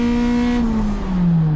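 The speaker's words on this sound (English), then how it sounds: "I was ready to catch the motor to not let it over rev very much, but now I do know this thing will not go into fifth gear" An Acura RSX-S race car engine at Thunderhill Raceway holds a loud, steady high-pitched drone after a missed shift into fifth, its pitch sagging slightly as the revs fall, close and continuous throughout with no talk.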